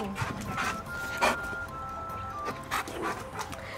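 Several dogs yip, whimper and pant close by, with short uneven bursts of sound over a fairly quiet background.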